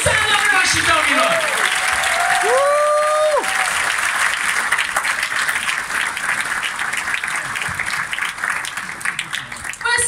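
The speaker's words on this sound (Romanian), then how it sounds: "primiți-o cu aplauze și căldură pe Ioana Luiza, doamnelor și domnilor!" Club audience applauding to welcome a performer on stage, loud dense clapping with cheers and whistles rising over it early on, tapering slightly toward the end.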